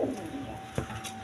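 A shorting pigeon in a bird seller's stall gives a soft, close coo. A brief low throaty note stands out over faint background noise.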